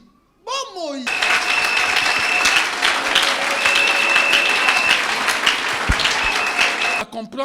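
A church congregation claps and cheers in loud, sustained applause that fills the room for several seconds, then stops abruptly.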